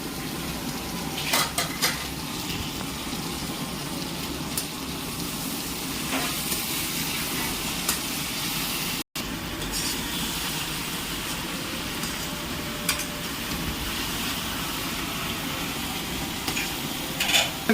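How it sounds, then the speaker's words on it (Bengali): A stove burning hard under a pot of Kerala-style curry, giving a steady close roar and sizzle, with occasional clinks of a utensil against the pot. "এখানে স্টোভ তো চলছে, একদম গ্যাসের থেকেও বেশি স্পিডে চলছে স্টোভটা"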